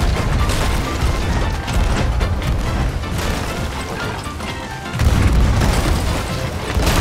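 Loud, dense bursts of booming ship cannon fire in the video game Sea of Thieves roll on continuously, heavy and crashing, with another sharp surge of blasts near the end.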